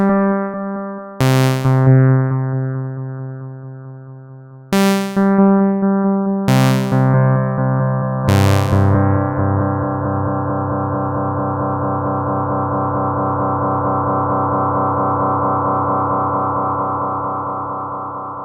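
Sustained electric keyboard chords run through a Boss DM-101 delay pedal set for tape echo emulation with feedback, loud and close, new chords struck at intervals and repeats smearing into a long, swelling tail that slowly fades.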